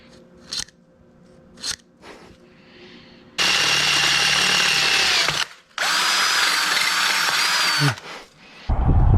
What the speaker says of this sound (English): so that I can just start drilling and put this thing in.